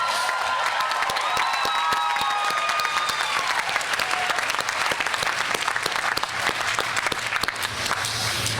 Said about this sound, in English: Let's give a loud round of applause for all of our students' families.